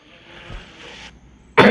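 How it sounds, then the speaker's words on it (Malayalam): A single short, sharp cough bursts out loud and close at the very end, after a stretch of quiet low background hum. "ഇതെന്ത് ചുമ വരണേ?"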